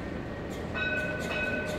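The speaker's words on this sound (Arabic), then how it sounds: "هذا هو يمر التراموي" A tram rolls past on a city street, a steady loud rumble of wheels on rail with faint tonal squeals rising partway through, heard alone with no talk.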